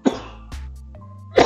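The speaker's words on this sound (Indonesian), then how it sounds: "Maaf ya, masih batuk lagi ini." A few short, harsh coughs spaced apart, the last one the loudest, with quiet between them.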